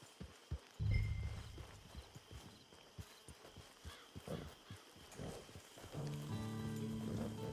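Horse hooves clip-clop in the video game Red Dead Redemption 2, a run of slowing hoof thuds on the ground with a soft rain-like patter behind them, followed by a steady low tone.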